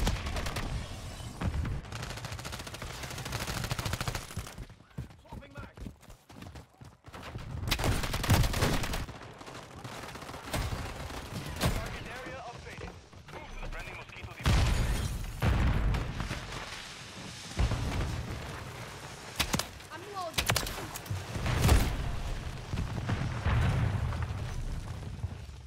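Gunshots and booming blasts ring out in a Modern Warfare 3 match, with loud shots and bursts spread irregularly over a dense battle backdrop of rumbling explosions and debris.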